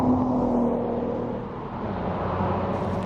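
A Volkswagen Golf Mk4 R32 engine hums and drones steadily from inside the car while driving, with a low, smooth tone that dips briefly and picks up again.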